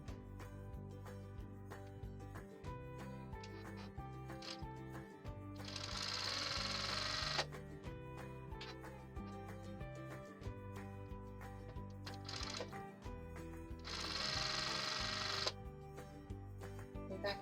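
A sewing machine chain-sews jelly roll rug strips in rapid rhythmic bursts of needle clatter, with brief pauses between seams and louder whirring runs, close up and without speech.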